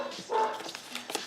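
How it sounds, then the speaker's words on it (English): A pet dog lets out a quick pair of barks at home, close and moderately loud, with a whiny edge to them. "Sorry, that's my dog."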